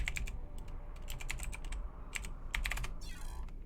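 Rapid clattering keystrokes on a computer keyboard while signing in, irregular bursts of close, crisp taps, followed by a short rising electronic tone near the end.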